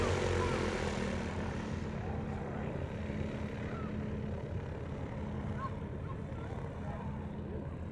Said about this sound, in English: Definitely looks like a pretty box stock 172 to me.